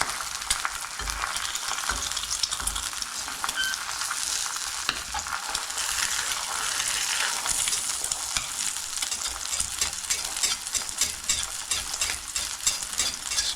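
Bacon and hash browns fry in hot oil in a pan, a steady bright sizzle with constant crackling splatter running close and loud throughout, with no talking.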